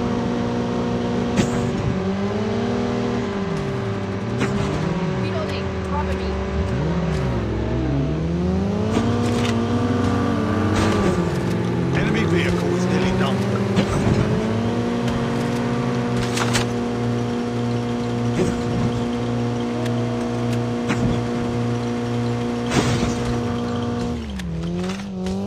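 An enemy vehicle engine in Call of Duty Mobile battle royale squad play, running loud and close throughout with a steady drone whose pitch swoops up and down as it revs and shifts, with occasional sharp clicks and impacts.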